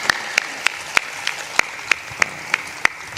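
A single person claps slowly and evenly, about ten sharp distinct claps spaced roughly a third of a second apart, at a spiritual gathering attended by an MP, with no talk over it.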